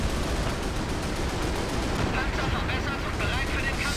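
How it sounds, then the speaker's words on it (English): Gunfire from a World War II battle in the strategy game Company of Heroes, a dense, continuous roar of shots and rumbling battle noise aimed at an enemy gun, with crackling bursts layered over the din. "I'll give it another go, trying to take out that gun."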